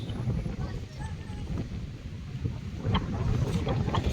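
Strong wind gusting across an open sunflower field, a steady close roar and buffeting on the microphone that stays loud throughout with no pauses.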